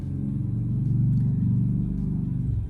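Steady low traffic rumble drifts in from a busy city road outside during the morning commute, a continuous dull drone with no voices.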